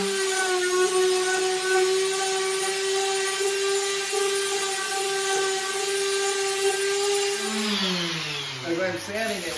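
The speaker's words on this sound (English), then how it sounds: "As I'm sanding it" A power sander runs steadily on a wood panel during surface preparation before staining, a loud continuous whine with stable tones that shift and wobble near the end as the pressure changes.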